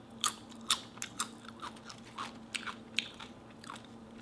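Spicy tuna taro chips crunch loudly and up close as they are bitten and chewed, with sharp crackly snaps at an uneven pace and a low steady hum underneath.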